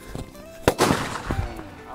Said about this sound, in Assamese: এতিয়া মই ফটকা ফুটাম